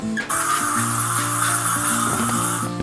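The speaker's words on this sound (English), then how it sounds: "Just spray it with the polish and let the polish sit." Polish hisses from a spray can onto a Trek bicycle in one steady, close burst lasting a couple of seconds, with faint mechanical tones humming underneath.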